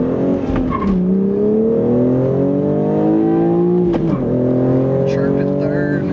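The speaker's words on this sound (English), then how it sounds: "let's get on it a little and see if you can hear some of the exhaust sound come through" A 2021 BMW M4 with a six-speed manual accelerating, its engine and exhaust note rising steadily in pitch through the gears, loud and close from inside the car, with a brief shift dip partway through.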